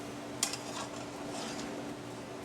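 Cooked truffle gnocchi hits a sauce-filled pan with asparagus in a chef's kitchen: one sharp clink near the start, then a steady low sizzle and faint pan rattle, with no voices.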